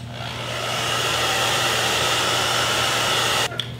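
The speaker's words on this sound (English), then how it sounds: "Then I'm gonna blow dry it a little to get it tacky." A hair dryer blows steadily on hair coated with Got To Be Glued gel, a loud, close whooshing roar with a constant motor hum, cut off abruptly near the end by a brief click.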